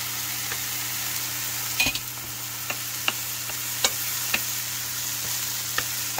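Morel mushrooms fry in a skillet with a steady, close sizzle, broken by sharp pops and clicks every second or so and a louder clatter near the start as they are turned.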